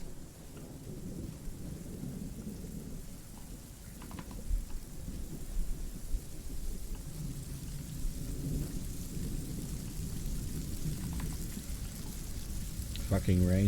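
Rain falls steadily during a thunderstorm in the military shooter Arma 3, soft hissing downpour with low rumbles of thunder rolling underneath, while players talk faintly over it.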